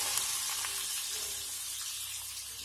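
Green chillies and big onions sauté in a hot pan for a Kerala-style chicken curry, giving a steady, soft hiss of sizzling, faint and continuous with no voices.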